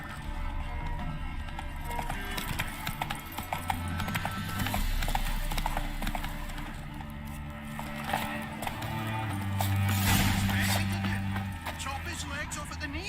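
Roach the horse gallops in The Witcher 3, with rhythmic hoof clip-clop running throughout under game music and ambience, and a brief whinny partway through.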